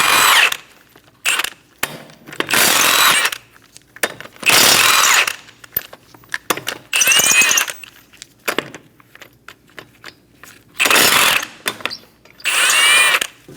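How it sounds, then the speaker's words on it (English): A power tool with a 21mm socket spins off the five wheel lug nuts on a 2008-2015 Scion xB 2.4L, heard as loud, close, repeated whirring bursts separated by brief pauses and small rattles. "Using a 21mm socket, remove the 5 lug nuts."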